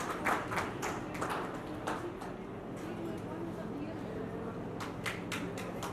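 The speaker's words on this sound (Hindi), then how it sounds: "Give a big hand, please." Audience at an international conference clapping in scattered bursts during an honoring ceremony, moderate and roomy, with talk and crowd murmur running underneath.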